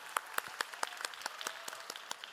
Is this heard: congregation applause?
yes